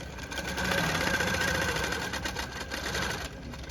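A Handi Quilter longarm quilting machine stitches along a ruler, a steady, fast mechanical hum with rapid rhythmic clatter, close up and uninterrupted.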